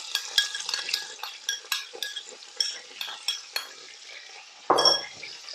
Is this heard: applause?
no